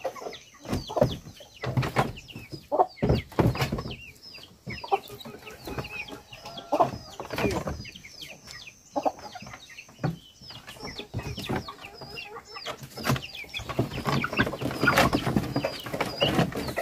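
Ordinary chickens cluck in a coop, with repeated short clucks and calls scattered throughout, moderately close and fairly busy, against light background activity.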